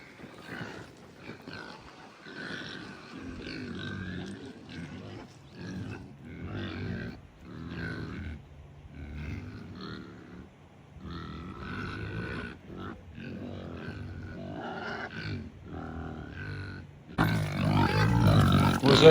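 A noisy chorus of pigs and sheep grunting and bleating nearby, continuous and overlapping, swelling louder near the end.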